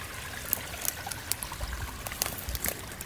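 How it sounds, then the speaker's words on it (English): Water runs steadily through a channel between ponds, a constant close trickling and gurgling stream with small splashes breaking through now and then. "It's amazing how much water's flowing through here."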